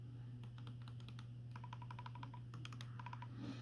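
Buttons on a Trimui Brick handheld game console pressed in quick runs of crisp, close clicks over a steady low electrical hum.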